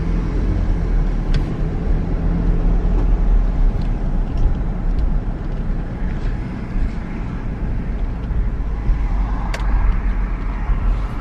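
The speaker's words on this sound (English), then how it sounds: "This car's backing into me as I'm like sitting right there." A car backs up at a McDonald's lot, its engine rumbling low and steady close by, with faint traffic noise around it and a few small clicks, no voices.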